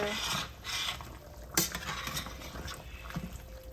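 A spoon scrapes and clinks around a pot of Jamaican-style oxtail, a few soft strokes with one sharper knock, close and fairly quiet.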